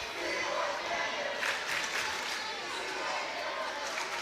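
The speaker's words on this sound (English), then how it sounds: "give the Kalida student section a little bit of props as they're still cheering loud over there" Distant student section crowd at a high school volleyball regional semifinal gym, Kalida versus Calvert, a broad steady wash of cheering and noise with brief swells, a commentator's voice faintly mixed in.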